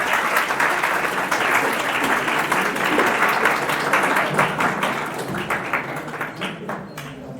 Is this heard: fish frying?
no